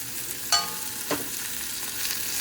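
Tomatoes and poppy seeds go into a pan of onions being sautéed for chicken curry: a constant bright sizzle with a couple of brief knocks as the ingredients drop in, no voices.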